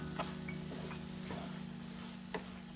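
Methi (fenugreek) bhaji with cooked moong dal being stirred in a pan, a low steady sizzle with a few soft scraping taps of the spoon against the pan, close and alone.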